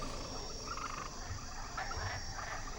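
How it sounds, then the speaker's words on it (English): A dense chorus of frogs croaks without a break in an animated scene of a plague of frogs, mixed with insect-like trilling and no voices. "Ask Jehovah to take away the frogs."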